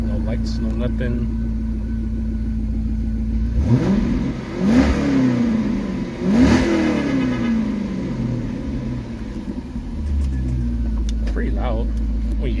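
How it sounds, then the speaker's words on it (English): A 2005 Corvette convertible engine is revved hard in two or three sharp bursts that rise and fall over a deep, steady idle. The sound is close and loud, and there is some talk around it. "Pretty loud when you really get on it,"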